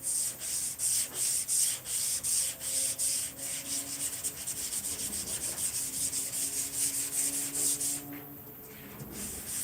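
A truck body is sanded by hand with 180 grit sandpaper: close, rhythmic back-and-forth scraping strokes that settle into a steadier rubbing near the end, with no talk.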